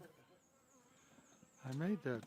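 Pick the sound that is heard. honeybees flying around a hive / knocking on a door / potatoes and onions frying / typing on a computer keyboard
honeybees flying around a hive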